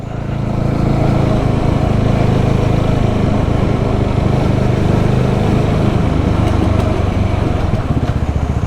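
A BSA Bantam 350 motorcycle engine runs steadily and loudly nearby, a constant buzzing drone that holds without a break, with no voices over it.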